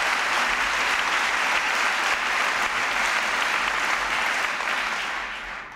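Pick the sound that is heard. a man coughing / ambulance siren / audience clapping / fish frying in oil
audience clapping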